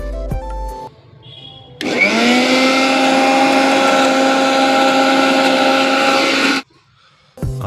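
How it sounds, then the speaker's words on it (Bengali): A kitchen mixer grinder whirs loudly and steadily for about five seconds while grinding spices for a meat dish at a small picnic, starting and stopping abruptly with quiet moments before and after. "এবার মশলাগুলোকে ভালোভাবে বেটে নেব।"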